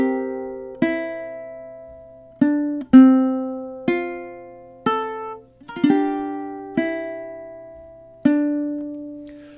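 A ukulele plucks a melody, about nine clear single notes and chords spaced in a slow, even rhythm, each ringing out and decaying before the next, close and alone.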